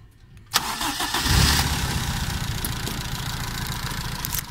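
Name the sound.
car engine starting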